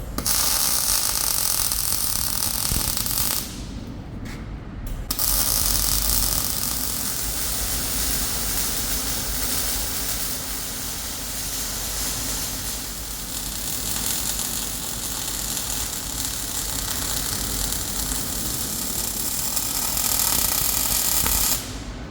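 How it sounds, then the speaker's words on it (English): Stitch welding joins steel sheets of a lathe walkway platform, a loud continuous crackling buzz with a short break a few seconds in, then steady again until the end, no talking. "And now I'm just going to stitch weld the sheets all the way around the perimeter."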